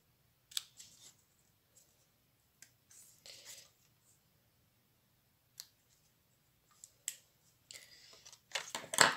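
Scissors snip through paper while a folded greeting card is being made, giving a few short, crisp cuts separated by quiet pauses and ending in a quicker burst of snipping close by.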